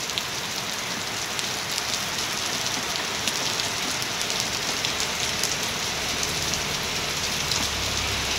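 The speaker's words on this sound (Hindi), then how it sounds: "और पाली तरफ छत पे दिखाई दे रहा होगा आपको कितनी खतरनाक बारिश हो रही है।" Heavy rain pours steadily onto nearby rooftops during a storm, a dense, unbroken hiss of drops that holds at the same loud level throughout, with no voices.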